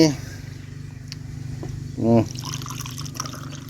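Liquid fertilizer mix is poured into water in a garden setting, a short gurgling splash heard once under nearby speech amid faint background hum.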